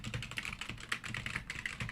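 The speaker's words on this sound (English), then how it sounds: "And I've got a mechanical keyboard because when I write, I like that tactile feedback." Fast, steady typing on a mechanical computer keyboard, a dense run of crisp clicks and clacks close to the microphone with no speech over it.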